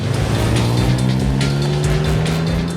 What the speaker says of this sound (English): The engine's beautiful, it's got this fantastic burble